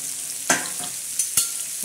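Chopped tomatoes and onion frying in a pan with ginger-garlic paste, a steady sizzle broken by a few sharp scraping stirs of a spoon, close and fairly loud with no voices.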